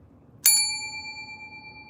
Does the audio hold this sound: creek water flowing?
no